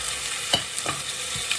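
About half a kilo of lamb sizzles and browns in an oiled frying pan, a constant crackling fry broken by several brief stirring scrapes, close and steady with no talking.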